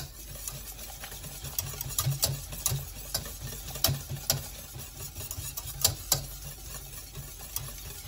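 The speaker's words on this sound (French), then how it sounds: "quand je tourne avec le fouet" A whisk stirs lemon tart cream in a bowl, giving quiet, rhythmic ticking and clicking strokes that repeat unevenly at a soft level close by, with no talking.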